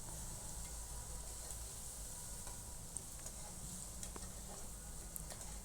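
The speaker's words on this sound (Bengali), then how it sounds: "চিংড়ি মাছ নাড়াচাড়া করে লাল লাল করে ভেজে ফেলবো।" Shrimp sizzle and fry in a pan while being stirred, a soft, steady hiss with occasional faint clicks and scrapes from the utensil.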